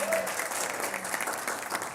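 Applause from attendees at a monthly community board meeting, a steady patter of clapping lasting a couple of seconds at moderate distance, with faint talk beneath it.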